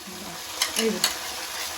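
A ladle stirs onion and tindora (ivy gourd) curry frying in a pan, giving two or three scraping strokes over a steady close sizzle.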